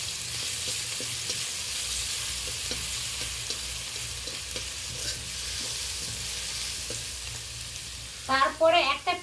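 Crushed garlic fries in spiced oil as a tempering, giving a steady broadband sizzle with faint stirring scrapes throughout, and a voice breaks in briefly at the very end.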